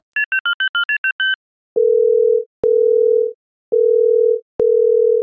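A phone calls out: a quick burst of electronic beeps, then four long, even ringback tones separated by short silences.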